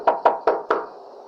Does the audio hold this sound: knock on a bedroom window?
yes